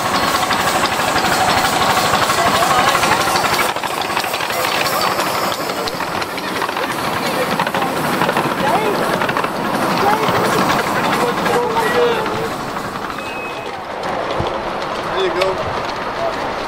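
A miniature steam train at Pembrey Country Park hisses and chuffs continuously, with rhythmic mechanical knocking and rail noise, fairly loud and close.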